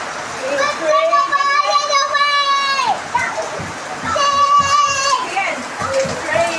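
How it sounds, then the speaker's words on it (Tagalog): Rain falling outdoors as a steady hiss under excited, high-pitched children's voices shouting and playing throughout. "It's raining! It's raining!"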